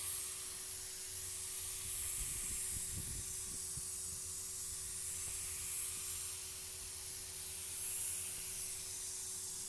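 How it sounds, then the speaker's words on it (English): High-pressure sprayer laying a fine mist blending coat of carpet dye: a steady, soft airy hiss running continuously with gentle swells in loudness, close by and alone. "A little bit more paint, still high pressure, just a fog, just a mist."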